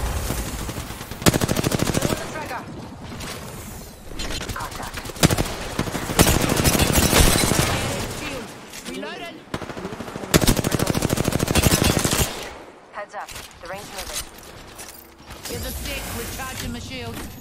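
Gunfire in the battle royale game Apex Legends, loud rapid automatic bursts with mechanical clacks and reload sounds, stopping and starting across the clip with brief quieter gaps.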